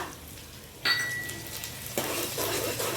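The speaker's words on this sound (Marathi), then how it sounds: "याला चांगलं थोडंसं फ्राय करून घेऊया" Green chillies, ginger and curry leaves hit hot oil in a pan with a sudden sizzle, then a steady frying hiss with a few utensil clinks, louder after a second stir, close and clear.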